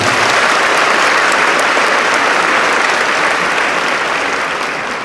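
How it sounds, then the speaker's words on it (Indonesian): A crowd at a transport school graduation ceremony applauds loudly and continuously, a dense wash of clapping that fades slightly toward the end. "Tepuk tangan untuk kita semuanya."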